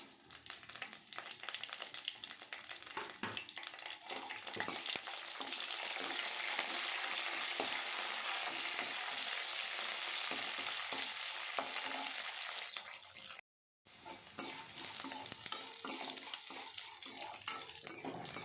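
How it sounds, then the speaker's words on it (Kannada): Mustard seeds, chana dal, green chillies and curry leaves fry in hot oil in a pan, a steady loud sizzle held for many seconds, with a brief break near the end before the crackling resumes. "ನಾವು ಕಟ್ ಮಾಡಿ ಇಟ್ಕೊಂಡಿರೋ ಹಸಿರು ಮೆಣಸಿನ್ಕಾಯಿ, ಕರಿಬೇವಿನ ಸೊಪ್ಪು ಹಾಕಿ ಫ್ರೈ ಮಾಡ್ಕೊಬೇಕು"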